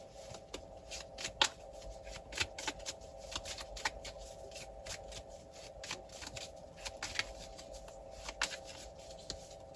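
Tarot cards shuffled by hand, a soft rapid riffling and flicking that continues throughout, quiet and close with no talking.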